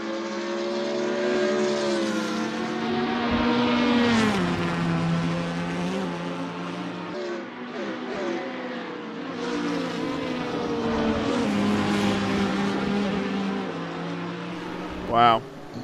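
Porsche and Lamborghini race cars roar around Road Atlanta in a racing video game, engines rising and falling through gear changes, while commentators talk over them throughout.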